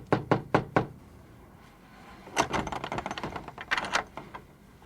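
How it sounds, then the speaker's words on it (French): Knuckles rap on a door in four or five sharp, evenly spaced knocks, close and clear, followed by a muffled clatter of busier tapping and rattling. "J'ai frappé 3 fois à sa porte"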